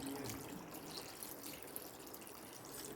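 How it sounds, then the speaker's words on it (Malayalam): Second coconut milk being poured into a pot of chicken stew, a steady liquid trickle and splash lasting the whole moment, close and fairly quiet with no talk. "ഒരു തേങ്ങയുടെ പാലെടുത്ത് വെച്ചിട്ടുണ്ട്. ഇത് സെക്കൻഡ് പാലാണ്. അത് നമുക്കിതിലോട്ട് ഒഴിച്ച്"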